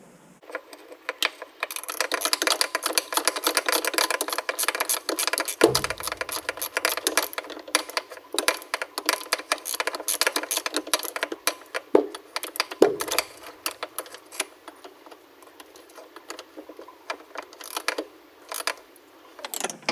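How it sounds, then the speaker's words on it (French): A ratchet wrench tightens bolts on the rear brakes of a BMW 5 Series E39 during a disc and pad change, giving long runs of rapid, close mechanical clicking with a few brief pauses. "Et on finit de serrer avec notre cliquet."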